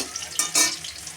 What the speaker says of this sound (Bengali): বাকি মাংসগুলো আমি এইভাবে ভেজে নেব